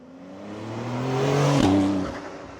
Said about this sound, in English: why not listen to the real sound while you have the open top?